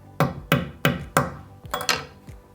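A small hammer drives a scope stop pin into an airgun's 11mm dovetail rail: four crisp, evenly paced close taps, then a few lighter, uneven knocks, with no voices.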